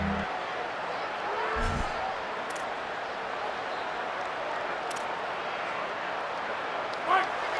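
Stadium crowd in EA Sports College Football roars steadily on a third-down defensive stand, a dense, sustained wash of noise with a few brief thumps.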